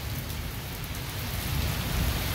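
Heavy monsoon rain lashing down in steady, dense noise with strong wind, close and loud throughout, with no voices over it.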